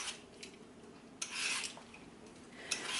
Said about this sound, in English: This is the green mango that I'm peeling, and I'm going to peel off the green parts of it here.